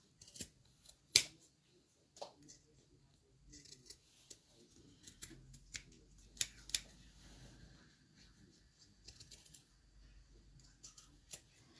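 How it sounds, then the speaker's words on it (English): Pinking shears snip through fabric while a hot water bottle cover is trimmed, giving quiet, irregular crunchy cuts with short pauses between them, close by and faint. "I'm going to trim with the pinking shears"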